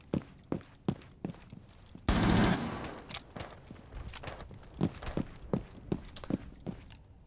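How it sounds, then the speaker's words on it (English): Rainbow Six Siege gunfire, with a player hip-firing through walls: sharp single shots crack at an irregular rhythm, and a dense roaring burst cuts in partway through. Fairly close, with no talk. "He is hip firing and shooting through walls."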